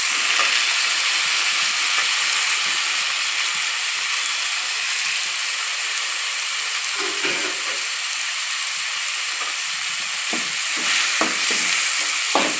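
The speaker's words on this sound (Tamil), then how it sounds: "தக்காளி நல்லா வதங்குற அளவுக்கு வதக்கிட்டே இருங்க." Tomatoes sauté in hot oil in a pan for a chapati vegetable stuffing, giving a loud, continuous sizzle with occasional scraping and stirring clicks, no voices.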